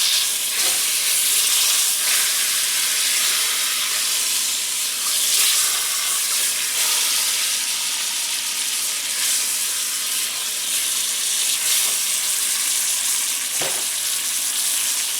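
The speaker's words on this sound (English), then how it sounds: "Turn the roast over and sear it on the other side." Roast beef sears in butter in a pan on a woodstove, giving a loud, continuous sizzle and hiss with scattered pops and small clatters, no voices.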